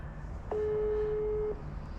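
A telephone call tone sounds during a call to family, holding one steady tone for about a second between two soft clicks over background noise, with no talking.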